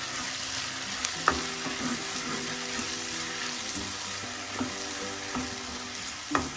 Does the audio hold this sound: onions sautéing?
yes